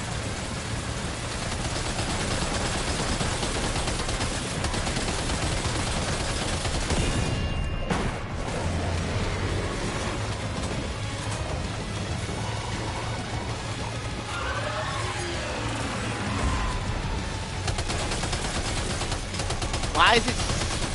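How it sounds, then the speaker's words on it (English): Sustained gunfire in the video game Death Stranding 2, a dense continuous rattle of shots over a steady noisy game soundscape. "Opening fire now."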